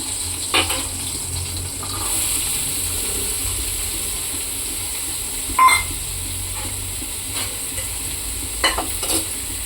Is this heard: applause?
no